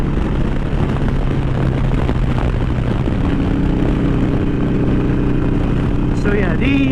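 A Harley-Davidson Iron 883 Sportster rides a road with its engine rumbling loud and steady under strong wind roar, and a voice is briefly heard near the end.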